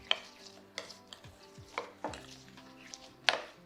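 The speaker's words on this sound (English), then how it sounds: "it makes a lovely sound as you stir it up as well because you've got the coffee beans in there" Coffee beans stirred through melted milk chocolate in a bowl, giving soft scraping strokes and hard little clicks at irregular intervals, close and fairly quiet.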